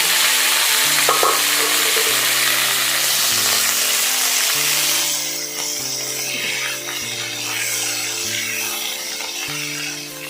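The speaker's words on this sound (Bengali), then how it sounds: "এই দেখো দেখো পরস পরস করে ছিটকাচ্ছে।" Boiled potatoes frying in sputtering white oil for aloo dum, a loud, steady broadband sizzle with crackling spatter throughout that eases slightly partway, over a low hum, with no voices.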